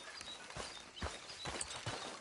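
Horse hooves clip-clop at a walking pace in the video game Red Dead Redemption 2, a few soft, spaced thuds against a steady ambient background.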